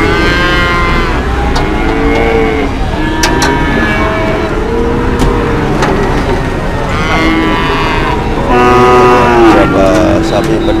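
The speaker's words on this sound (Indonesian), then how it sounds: "Kita akan mengikuti gimana proses sapi turun dari pickup" Cattle moo repeatedly and loudly, close by, while being unloaded from a pickup truck at a cattle market in Nganjuk, East Java, with crowd noise steady underneath throughout.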